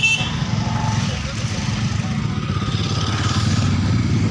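Motorcycles and other vehicles idle and move around a crowded parking area at a New Year celebration, a continuous low engine rumble and putter running under the whole stretch with faint crowd noise.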